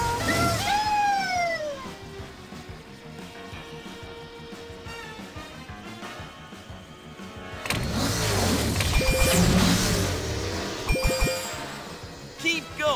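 A racing car in the PJ Masks Racing Heroes video game hums and whooshes along under upbeat game music, with chimes and pickup dings, rising to a busier, louder stretch near the end.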